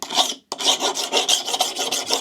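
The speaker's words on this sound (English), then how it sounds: "This isn't a really coarse file. Just to put the burred edge on it." A fine file rasps along a steel tool edge to raise a burr. About nine quick, gritty back-and-forth strokes sound close and loud after a short pause near the start.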